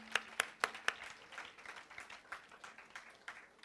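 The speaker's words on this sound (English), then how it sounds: "Let's give him a big round of applause." Scattered clapping at a conference session, a few sharp, distinct claps at first, then thinning into softer, sparse applause from a modest audience, faint and somewhat distant.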